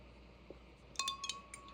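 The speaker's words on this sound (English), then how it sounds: "drop 1 egg into the first glass of pure water and observe" An egg drops into a glass of plain water, giving a soft plop and then a few bright glassy clinks close by in a quiet room, all within about a second.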